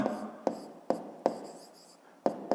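Pen on paper writing out a math answer, quiet scratching strokes broken by six sharp taps at irregular intervals, close and faint with no speech.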